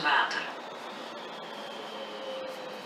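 A Rotterdam Metro Line C train hums steadily at a high platform, a faint electric whine holding under a low rumble, with a brief louder burst at the start.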